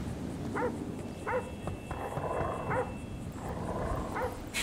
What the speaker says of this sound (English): The fake dog barking sounds.